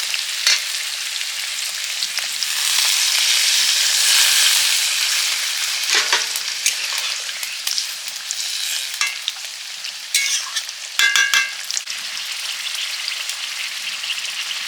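Potol posto, pointed gourd cooked with poppy seed paste, bubbles and sizzles in a pan after water is poured in, with a steady wet hiss swelling midway and scattered scraping stirs near the end.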